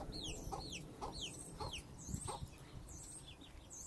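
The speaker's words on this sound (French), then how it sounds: "vous pouvez apercevoir le coq là, la jeune poule ici, la maman," A backyard flock of chickens, a rooster with a mother hen and a young pullet, gives soft, regular clucks at about half-second intervals over steady outdoor background noise, fairly faint and unaccompanied by talk.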